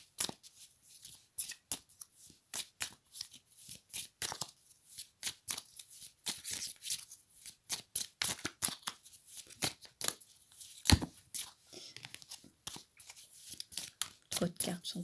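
Tarot cards shuffled and cut by hand in a dense run of quick riffling slaps and flicks, close and fairly loud, with a few sharper snaps and someone speaking French between the bursts.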